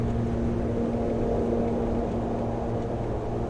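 An ATR72-600 turboprop in Microsoft Flight Simulator roars with its thrust reversers deployed after landing, a steady, loud, broadband rush with a low hum underneath, holding constant throughout.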